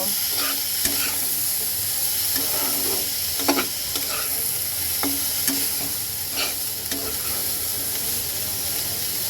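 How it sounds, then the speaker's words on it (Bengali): Eggplant pieces fry in a hot pan for an eggplant do-pyaza, giving a steady, close sizzle with a constant hiss and occasional scrapes and clicks of stirring, and no voices. "বেগুনটা আমি খুব সুন্দর মতো কয়েক মিনিট ভাজবো"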